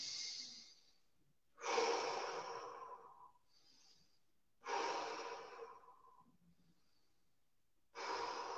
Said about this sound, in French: 3 grandes respirations.